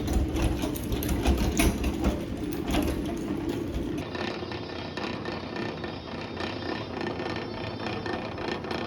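A honey extractor spins honeycomb frames with a steady, close mechanical whir and rattle. Partway through, the sound shifts to a smoother hum.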